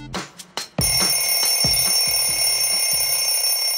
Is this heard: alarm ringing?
yes